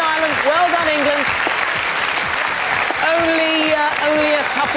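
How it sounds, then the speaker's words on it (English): Dense, steady studio audience applause on a live TV IQ test show fills the whole stretch, with brief tonal, voice-like sounds layered over the clapping. "you can give them a round of applause, of course"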